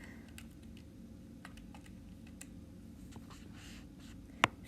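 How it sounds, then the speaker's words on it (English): A calculator keypad tapped with a series of light, quick clicks scattered over a quiet background, near and soft, with one sharper click near the end. "we just type this into our calculators"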